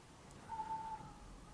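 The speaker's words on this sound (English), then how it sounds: "there's a very tiny gap in the window that's making that whistling noise" A thin, steady high whistle rises out of faint background hiss for under half a second, wind squeezing through a tiny gap in a window, then fades.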